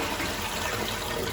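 Water gushes and fills steadily in household plumbing during a fridge freezer installation, a continuous close rushing hiss with no break across the clip.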